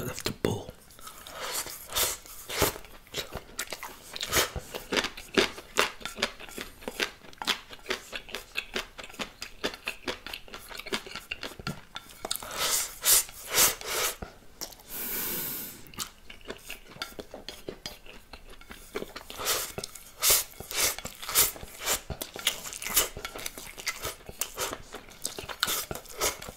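Cutlery clinks and scrapes against a bowl while thin egg noodles, century egg, pickled radish and broad beans are eaten up close, with rapid irregular taps and soft chewing throughout.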